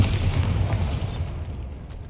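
A Bombarda blast goes off in Hogwarts Legacy, one loud booming explosion with a burst up front that rumbles and fades out over about two seconds.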